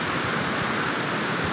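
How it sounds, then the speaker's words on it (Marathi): Surf on the sea at Navapur beach rushes close and loud in a dense, unbroken wash of noise from start to end. "देखो अभी लहर आ रही है"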